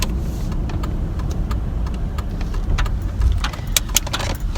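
Car rolling slowly through a lot in search of a parking spot, a steady low engine and road hum from inside the cabin with faint clicks and small rattles over it.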